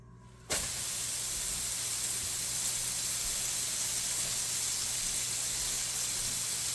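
A hamburger patty hits a hot pan with a sudden loud burst of sizzle that settles into a steady, close hiss for several seconds, no talking.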